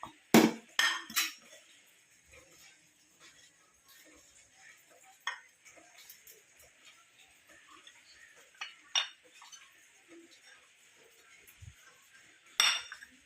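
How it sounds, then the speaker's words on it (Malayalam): Spoon stirring upma of roasted semolina with fried carrot and onion in a pan, giving quiet, sparse clinks and scrapes with a few sharper metallic taps at the start and end. "എന്നിട്ട് നമുക്കതൊന്ന് ഇളക്കി എല്ലാം കൂടെ യോജിപ്പിക്കുക"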